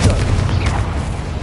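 Confringo blasting spell in Hogwarts Legacy, a single loud, close, booming blast with a deep rumble that fills the short moment.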